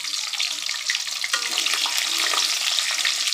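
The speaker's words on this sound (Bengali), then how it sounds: "এখন দিয়ে দেব কিছু রসুন কুচি।" Chopped garlic dropped into hot oil with popped cumin seeds, a steady close hiss of frying that swells slightly after a soft clatter, with no talking.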